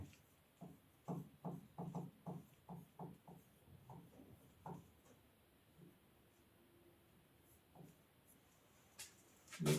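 Chalk or marker scratches out a geometry proof on a board in quick, separate strokes, a burst of rhythmic taps and scrapes followed by sparser marks, close and fairly quiet, with faint voice sounds between.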